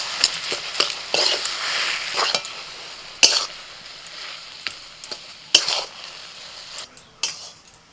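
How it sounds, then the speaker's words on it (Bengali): Boiled, mashed potato is stirred into frying spice masala for Kolkata-style egg devils, with a steady sizzle broken by scraping spatula strokes and sharp knocks against the pan, close and without talk. "মশলাটা ভালো করে কষিয়ে নিয়ে এবারে সিদ্ধ করে মেখে রাখা আলুটা দিয়ে দিচ্ছি।"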